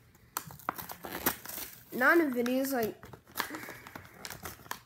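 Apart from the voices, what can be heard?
tearing open Easter candy packaging by hand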